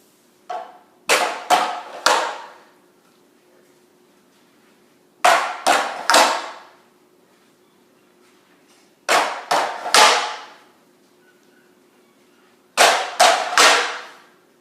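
Tinikling bamboo poles clicking together in four groups of sharp wooden knocks, each a short burst of two to three clacks separated by pauses, fairly close and clear against a faint steady hum.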